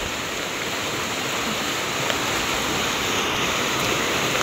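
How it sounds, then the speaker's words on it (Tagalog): A forest stream, wet after rain, rushes along in a steady, close, broadband wash of flowing water with no pauses and no voices. "Ayan po yung Sapa."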